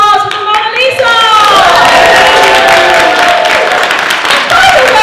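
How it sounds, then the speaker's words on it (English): A crowd at a convention's tea dueling finals claps and cheers loudly, with whoops and raised voices over steady applause that carries on throughout. "A round of applause for Mona Lisa!"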